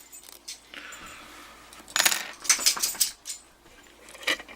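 Small metallic clicks and rattles of a Hurd 45mm brass padlock being picked open, a faint scratchy start followed by a cluster of sharper close clicks and a final snap, no talking.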